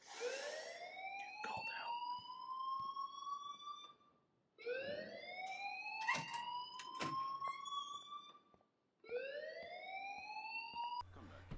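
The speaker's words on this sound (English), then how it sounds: "please turn off that alarm since that's your job" An alarm in the video game Life Is Strange wails in three rising, siren-like sweeps, each rising in pitch and then cutting off briefly before the next. The sound is loud and steady, with no talk over it.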